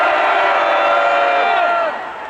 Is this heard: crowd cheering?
yes